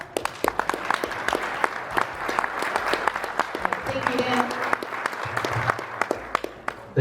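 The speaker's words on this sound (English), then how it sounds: "Let's give Dan a round of applause" A conference audience applauds a speaker named Dan at a grassland and nutrient-density gathering, with dense, steady clapping from many hands filling the room for several seconds and a few voices murmuring beneath it.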